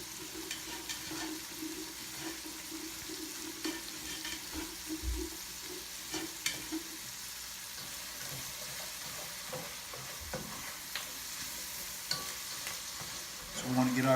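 The trinity of vegetables is stirred and sautéed in a pan for shrimp creole, giving a soft continuous sizzle with scraping and shuffling of a utensil. Occasional knocks against the pan, with a louder clatter at the very end.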